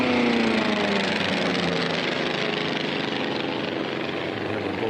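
Formula One racing aircraft at the Reno National Championship Air Races, a loud propeller engine drone that sweeps downward in pitch as a plane passes close by, holding strong and steady to the end.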